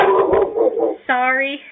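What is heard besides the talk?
dog barking at neighbor coming home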